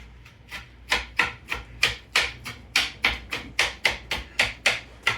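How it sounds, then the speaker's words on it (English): A knife chopping onions, red peppers and green peppers for homemade macaroni salad, with steady rhythmic cuts, about three per second, close and crisp, and no talk. "I am cutting up onions, red peppers, green peppers."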